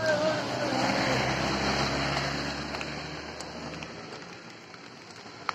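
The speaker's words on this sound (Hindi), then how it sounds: "बारिश बहुत ही ज्यादा है" Dense hiss of heavy rain in fog on the Vaishno Devi pilgrimage route in March, loud at first then easing slightly, with a low vehicle rumble beneath and a few faint clicks near the end.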